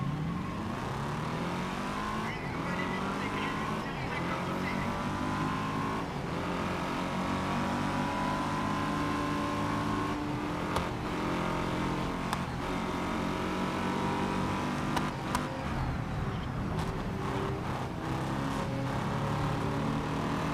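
A race car engine in the GRID Legends racing game drones steadily and loudly for the whole stretch, with continuous revving and shifting pitch and no talk over it.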